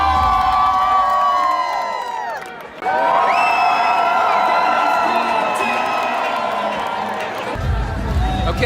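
A crowd cheers and shouts with whoops at a fire walk event, loud and sustained with a short dip midway, and children's voices mixed into the roar.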